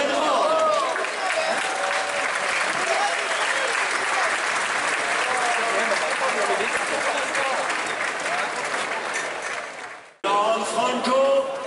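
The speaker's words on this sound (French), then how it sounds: "On peut applaudir les propriétaires de Golden Horn." Sustained, dense applause from a large crowd at the 2015 Arc de Triomphe horse race for Golden Horn's owners, loud and continuous, briefly dipping before swelling again.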